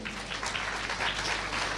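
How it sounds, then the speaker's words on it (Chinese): An audience claps at a Kington Life Plasma presentation with Robert Slovak, a steady, fairly faint wash of applause from a mid-distance crowd, continuous throughout without talk. "再给我们 Kington 生命精华液一个掌声"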